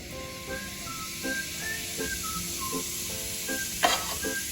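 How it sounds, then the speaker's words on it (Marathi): Cumin seeds sizzling in heated oil on a tawa as tempering for stuffed bitter gourd, a steady soft hiss with faint crackles and a brief louder burst near the end, no voices. "आपण याच्यामध्ये फोडणीसाठी जिरे घालून घेऊयात"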